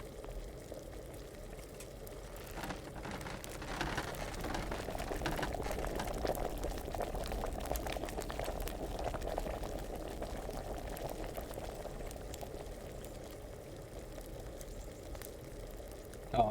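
Liquid bubbles steadily while brewing in Kingdom Come Deliverance, a soft continuous simmer with occasional pops that carries on evenly, with a small clunk right at the end.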